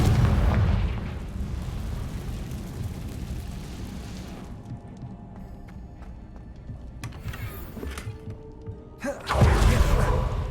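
A Confringo blasting spell in the video game Hogwarts Legacy: a loud fiery boom at the start that rumbles away, then quieter game sounds and a second heavy burst near the end.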